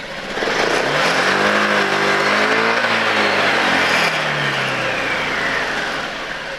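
A car engine is revved steadily while its idle and rpm are adjusted, a loud, close drone that rises and falls in pitch with the throttle, holding without a break and with no talk over it.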